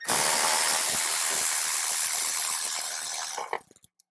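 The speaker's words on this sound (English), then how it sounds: "you'll see where that 13mm bolt is for the airbag. I'm going to undo it" A ratchet works a 13mm airbag bolt loose inside a Jeep Wrangler JL, making a close, continuous rasping whir that fades and ends in a few short clicks.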